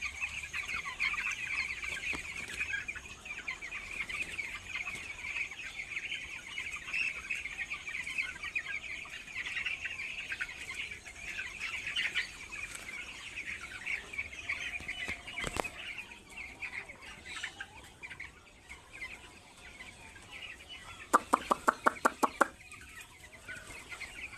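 Broiler chickens on a poultry farm cluck and chatter continuously as a dense flock, with a brief burst of wing flapping and a sharp rattling knock late on.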